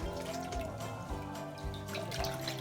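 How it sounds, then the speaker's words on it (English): Hands splash and stir in a bowl of warm water, with soft, irregular drips and sloshes, quiet and close. "Traditionally in Congo, we wash our hands using a bowl of warm water."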